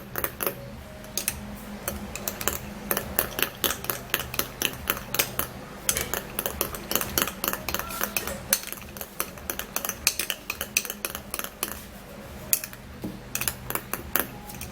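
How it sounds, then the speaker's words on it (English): A spoon stirs an egg and banana mixture in a bowl, making quick, steady clinks and taps against the side that repeat for about fifteen seconds, alone without speech. "you would first of all be stirring it all up together"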